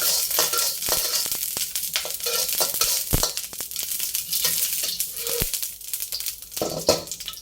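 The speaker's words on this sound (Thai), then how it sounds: "ตั้ง กระทะนะคะ แล้วก็ใส่น้ำมันลงไปนะคะ" Oil heats in a frying pan on the stove before garlic goes in for a stir-fried ribeye with oyster sauce, a soft continuous sizzle and hiss with scattered clicks and knocks of the pan, heard alone.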